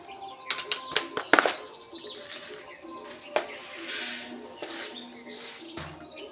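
Small birds chirp in scattered short bursts at a morning feeding spot where grain is set out, several tweets close by over steady outdoor background noise, with no talking.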